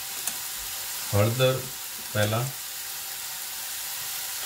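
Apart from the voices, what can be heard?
bottle gourd and spices sizzling while sautéing in pan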